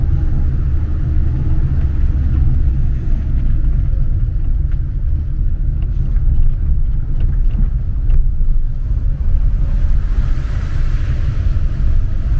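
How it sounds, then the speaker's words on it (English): A car on a mountain road, heard from inside a vehicle as a steady low rumble that holds level for the whole stretch, with no clear rise and fall of a passing car. "There is a car coming up."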